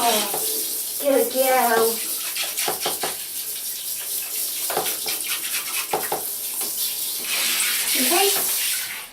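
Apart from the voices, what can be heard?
running water rinsing shampoo off a guinea pig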